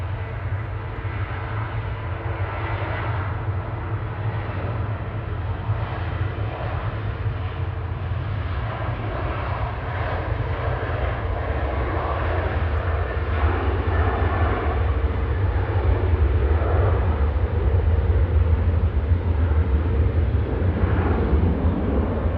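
A Ryanair airliner rolls for takeoff at Manchester Airport, a steady, heavy engine roar that swells gradually louder over twenty seconds, heard from a distance outdoors without voices.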